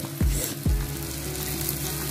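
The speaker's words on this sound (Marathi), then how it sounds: "स्वच्छ धुवून घेतलेली गवार घालणार आहोत." Washed cluster beans (gavar) dropped into a hot pan for a Marathi bhaji burst into a loud, steady sizzle, with a couple of sharp clatters at the start, near and continuous.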